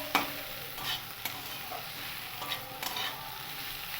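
Radish greens and potatoes fry quietly in a pan with a low, even sizzle and a few light knocks from stirring.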